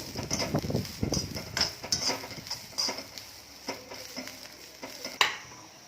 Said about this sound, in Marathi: 1 ते 2 मिनिटं असं थोडंसं परतून घेणार आहोत.